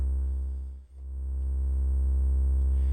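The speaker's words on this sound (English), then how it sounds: "we're doing ring modulation now instead of amplitude modulation" A steady ring-modulated synthesizer oscillator tone with a buzzy, metallic harmonic texture, holding continuously with one brief dip in level near the start.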